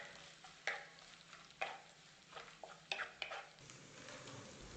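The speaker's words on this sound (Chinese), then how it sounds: "放入香肠末炒香。" Minced sausage stir-fried in a little oil in a wok while making a savory filling: a spatula scrapes and clacks in scattered strokes over a faint, steady sizzle, fairly quiet and close.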